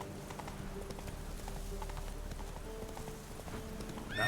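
Hoofbeats from Geralt's horse Roach in a Witcher video game, a steady clip-clop trotting along over a low ambient bed, with a brief whinny-like sound at the very end.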